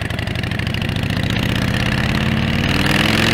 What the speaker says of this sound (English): the star of the show on this bike is this engine